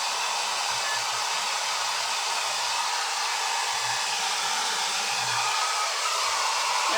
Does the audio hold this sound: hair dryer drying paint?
yes